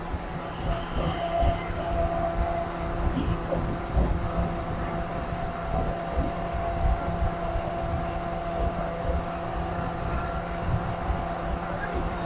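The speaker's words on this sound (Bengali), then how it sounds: "ট্রেন ঢুকে পড়েছে কত ভিড়" A train arriving at a crowded station rumbles and clatters steadily with a low mechanical hum, a continuous rolling noise that fills the whole stretch.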